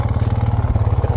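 KTM 450 EXC dirt bike engine idling close by: a loud, even, rapid single-cylinder thumping pulse with no voices over it.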